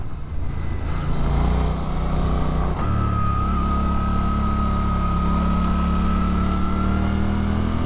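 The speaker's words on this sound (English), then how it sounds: "The engine's torquey." A Suzuki GSX-8S motorcycle engine revs and accelerates, a loud close drone whose pitch climbs and holds steady, with no talking.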